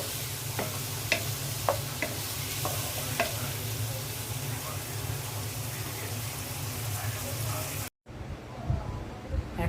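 Eggplant and potato pieces stir-fried in a pan with green chilies, a continuous close sizzle broken by repeated spatula scrapes and taps, then a brief cut near the end and a quieter stretch of stirring.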